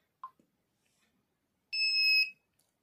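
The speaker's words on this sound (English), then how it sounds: "When I send the message, here buzzer will beep the sound and it will scroll on the LCD display." An Arduino notice board's buzzer sounds once when a new Bluetooth message arrives: a single loud, steady electronic beep of about half a second, preceded by faint small clicks.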